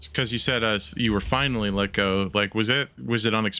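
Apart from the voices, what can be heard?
No distinct noise like a dog, phone or traffic.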